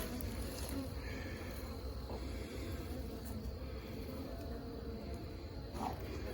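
Honey bees buzz in a continuous low drone around hive boxes being added, close and fairly faint, with no voices over it.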